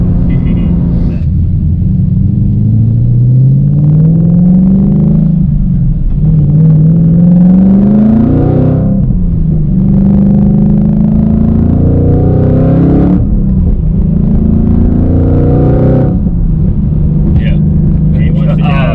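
A boosted 2021 Ford Mustang Mach 1 engine revs up and down in repeated loud, rising sweeps, close and steady, with people talking over it.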